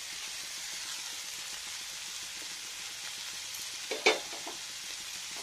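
Vegetables with whole coriander plants and green chillies fry in a pan with a soft, steady sizzle, a short scrape of stirring near the end breaking the quiet hiss.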